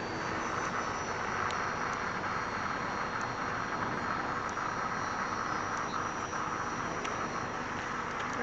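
An FPV Adventurer V.5 drone flies with its motors pushed to high throttle, giving a loud, steady, unbroken whine that holds level for the whole stretch with no voices.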